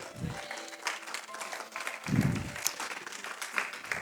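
A church congregation applauds in a sustained burst of many hands clapping, moderately distant and even throughout, with a voice speaking briefly over it.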